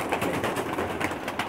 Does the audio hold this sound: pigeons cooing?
yes